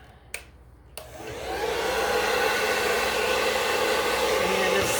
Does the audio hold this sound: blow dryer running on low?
yes